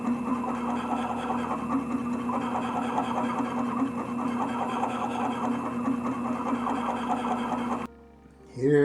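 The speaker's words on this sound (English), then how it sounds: "I'm polishing with the darkside lap and just about finished with it" A gem faceting machine polishes a helenite stone on a darkside lap, giving a steady close motor hum with a rhythmic mechanical whir that cuts off abruptly near the end, followed by a brief clatter.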